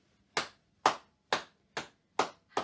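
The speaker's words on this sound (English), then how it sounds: "And can you clap them together?" Six separate, crisp hand claps ring out close by at an even, unhurried pace during an early-years music session, each clap clean and isolated with quiet between.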